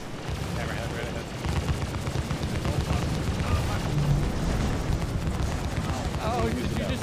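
Sustained turret gunfire from a crewed Hammerhead gunship in the space game Star Citizen during a battle against 9 Tails, a dense, continuous roar of rapid shots that swells after the first second and holds steady, with voices talking underneath.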